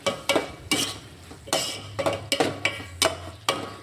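Tomato kadaiyal being mashed in a pot rather than a traditional clay chatti, heard as repeated clanking thuds of the masher against the vessel, steady and close, with no voices.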